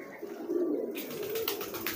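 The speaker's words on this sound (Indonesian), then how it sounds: "Ini kan ada merpati pos nih." A homing pigeon coos softly nearby, a low throaty warble in the first second, followed by rustling and scratchy handling noise.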